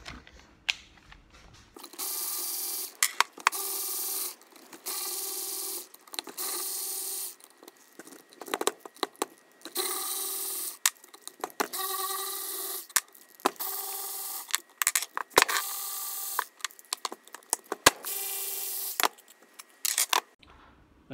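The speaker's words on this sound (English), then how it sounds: "we've got the bolts out of the snout of the supercharger" Bolts being undone with a ratchet on the snout of an Eaton M90 supercharger, close bursts of rapid ratchet clicking separated by short pauses and a few metallic knocks, with no talking.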